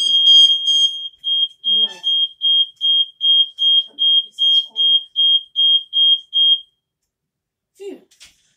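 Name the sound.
fire alarm going off as a prank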